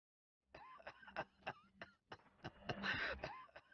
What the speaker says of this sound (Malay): Adakah di kalangan keluarga anda mempunyai tanda-tanda batuk sebegini?